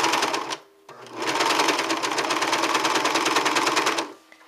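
A four-needle, four-thread overlock serger sews fabric with a short burst, a brief pause, then a long, loud, steady mechanical whir that stops abruptly, close up with no talking.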